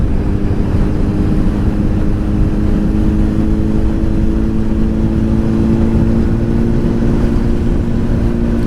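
Honda CBR1000RR Fireblade motorcycle engine at a steady cruise while riding, a continuous loud, low drone with a constant hum and wind rush throughout, no voices.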